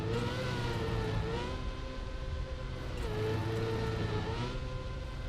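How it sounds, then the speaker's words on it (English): Car engine in the racing game Trackmania, a steady droning hum that rises and falls in pitch as the car accelerates and shifts, continuous and fairly loud with no talking. "Why does the car sound make you sleepy?"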